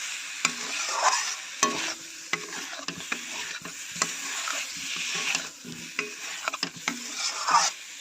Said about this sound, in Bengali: আলুটাকে একটু কষে নিচ্ছি